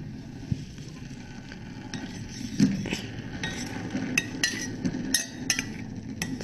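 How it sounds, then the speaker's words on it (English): A spoon stirs melted candle wax in a ceramic teacup, giving scattered light clinks and scrapes against the cup at close range over a low, steady background. "And then stir it gently."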